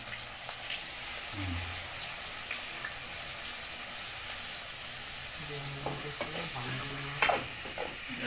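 Spice paste with ginger frying in a pan, producing a soft continuous sizzle with spatula stirring and scraping that grows busier toward the end, faint background voices mixed in.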